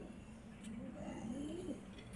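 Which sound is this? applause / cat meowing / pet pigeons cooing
pet pigeons cooing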